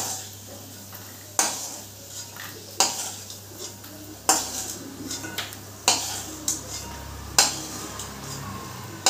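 A bowl and pans knocked about in a kitchen after peanuts are fried in oil: sharp metallic clanks about every second and a half, loud and close, with faint scraping between.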